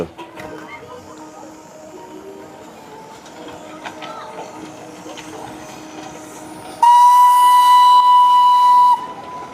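The Darjeeling toy train rumbles along steadily at Batasia Loop, then a loud, sustained steam whistle blows for about two seconds before cutting off, the running noise continuing.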